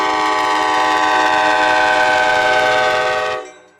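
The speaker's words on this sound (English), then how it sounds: "As the sky begins to lighten, Train 5 pulls into the station." An ACE (Altamont Commuter Express) commuter train pulling into a station sounds one long, loud, steady horn blast that holds for several seconds and then cuts off abruptly.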